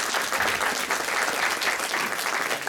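An audience claps warmly at the launch of a children's poetry collection. The dense, even applause fills the room for a few seconds without a break, with no speech over it.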